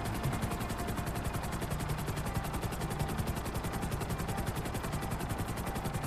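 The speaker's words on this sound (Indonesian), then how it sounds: "Wih, ada pesawat juga tuh, helikopter tuh." A helicopter in the video game GTA 5 drones with a rapid, steady rotor chop, loud and close throughout, with a thick engine roar beneath the regular blade beat.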